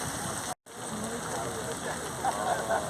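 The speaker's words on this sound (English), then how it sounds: "the rain is playing havoc with the camera" Steady rain pattering outdoors at the start area of the 2022 Auckland Marathon, a dense continuous hiss with a brief dropout, while people talk faintly.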